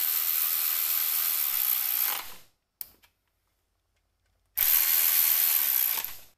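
A power tool bolting down parts of an LS engine oil pan, two close bursts of whirring with a silent gap between them.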